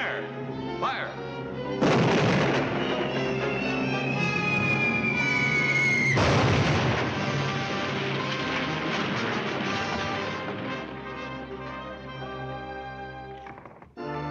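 Cartoon artillery cannons fire in a loud, dense burst of booms and blasts with a whistling shell sweep, in an animated military comedy; voices and music run underneath throughout.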